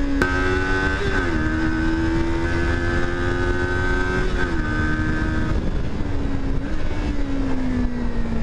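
A 2023 Kawasaki Ninja 400 KRT motorcycle is ridden on open road, its engine droning loud and steady with smooth pitch rises and dips as the revs shift and gears change.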